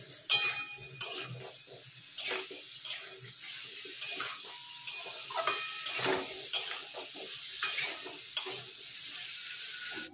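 Pumpkin curry with coriander and cumin powder is stir-fried in a pan, with repeated scraping and clattering strokes of the spoon over a low sizzle, close and rhythmic, with no speech.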